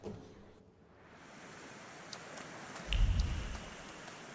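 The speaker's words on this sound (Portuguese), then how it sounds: "tá mó chuva e os caras sentados aqui fora" Heavy rain in the video game The Thaumaturge falls as a dense, steady wash of noise, swelling after a quiet start, with a low rumbling surge near the end and a few faint ticks on top.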